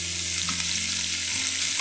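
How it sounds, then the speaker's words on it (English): Pork belly slices laid in a single layer in a pan fry with a steady, close hiss that keeps up without a break over a low hum, and no one speaks. "And fry the pork belly."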